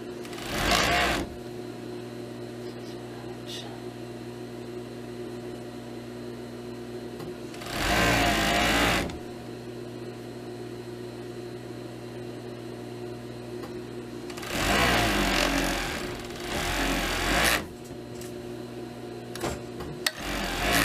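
A sewing machine stitching the side seams of a pleated fabric skirt, sounding in three loud whirring bursts of about one to three seconds, separated by quieter stretches of faint hum.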